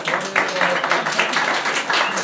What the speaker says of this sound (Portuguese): chegou o Benê Barbosa aqui do Movimento Viva Brasil, foi aplaudido